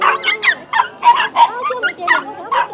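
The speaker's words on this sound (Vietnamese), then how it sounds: "Đây là chợ chó nha các bác." Several dogs bark and yip in close, rapid bursts at a busy Sunday highland market in Mèo Vạc, loud and uneven in rhythm, with no talk over it.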